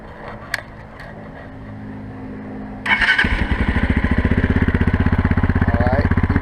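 A 2020 engine turns over with a low background hum, catches abruptly partway through and then idles with a rapid, even, pulsing chug, loud and close, with no voices.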